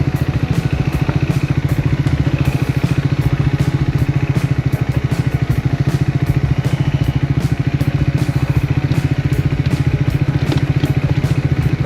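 A motorcycle rolls slowly down a steep path in northern Thailand, its engine a steady, close, low mechanical chug with rattling clatter, continuous and unbroken with no voices.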